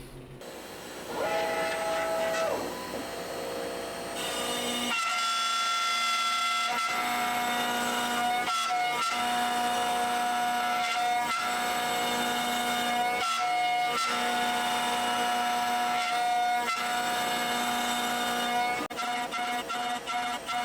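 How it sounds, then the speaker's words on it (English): A CNC router with a 1/4-inch bit cuts a personalized wooden cutting board stand, its spindle whining loudly and continuously with shifting pitches and brief dips as the tool moves. "So this entire project was cut with a 1/4-inch bit using two tool paths, a pocket tool path and a profile tool path."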